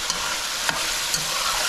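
Okra dropped into a cooking pot of fish curry with green mango, a loud steady sizzle and hiss with a few faint clinks.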